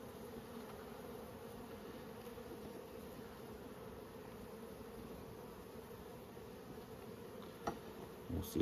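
Honeybees hum in a steady, low, continuous buzz around an open nucleus hive, quiet and close, with a few faint clicks and knocks near the end.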